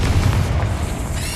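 A Confringo fire spell explosion in Hogwarts Legacy, a single deep, loud boom with a rumbling low-end burst that fades quickly into a roaring tail.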